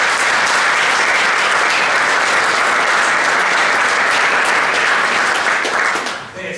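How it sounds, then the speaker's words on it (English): Football players at a team banquet give a loud, sustained round of applause, a dense, even roar of clapping that holds steady before tapering off at the end. "Players, give them a round of applause"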